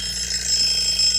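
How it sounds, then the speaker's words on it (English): Egg timer alarm sound effect, a loud, rapid high-pitched electronic ringing that carries on steadily for the whole short stretch. "Egg timer sound effect free."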